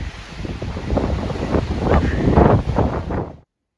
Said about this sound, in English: Another windy day. There's a wind advisory